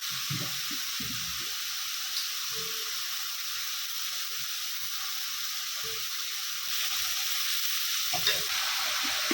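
Steady sizzling of pointed gourd frying in a pan, with occasional stirring clatter and light knocks underneath.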